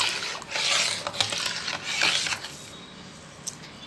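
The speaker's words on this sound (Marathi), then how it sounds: "आता मी त्यामध्ये बघा साखर घालून घेते, आणि यामध्ये साखर घालून घेतली आणि याला हलवून घेते साखर घालून." Sugar being stirred into thick mango pulp for aamras, giving soft rasping, scraping strokes of a spoon against the bowl in two broad bursts, close and fairly quiet, with no talking.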